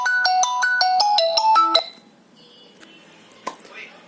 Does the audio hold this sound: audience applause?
no